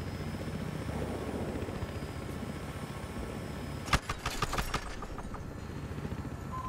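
A helicopter in the video game Battlefield Hardline drones with a constant, fairly loud rotor and engine noise, and a few sharp bursts break in near the end.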